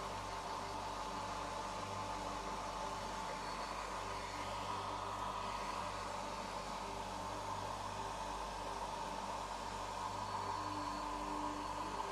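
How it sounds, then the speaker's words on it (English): A hair dryer runs steadily and loudly at close range, a constant whooshing roar with a faint motor whine that holds without change from start to finish. "hair dryer time."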